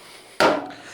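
A rag wiped across a bike chain to remove sprayed WD-40, heard as one quick, close, loud rubbing swipe that starts abruptly and fades within half a second.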